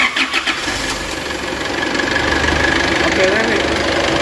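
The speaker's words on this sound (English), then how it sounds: "Can you start up the vehicle and rev the vehicle and let's see if it goes." A diesel vehicle's engine cranks and catches, then settles into a steady, rising idle rumble that grows slightly louder, with brief mechanical clatter at the start.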